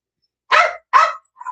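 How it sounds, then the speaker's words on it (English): A nearby dog barks twice, sharp and loud, with silence between, then starts a third bark at the end. "Let me handle this dog."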